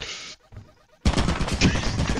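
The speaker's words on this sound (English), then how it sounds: "Oh, that's a turret." Turret in the game Lethal Company firing dense rapid bursts, a short loud spray, then a brief lull and a louder sustained volley.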